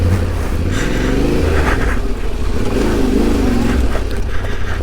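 A Yamaha Tenere 700 adventure motorcycle rides a muddy off-road single track, its engine droning loud and close in a steady, continuous rumble with slight rises in revs throughout.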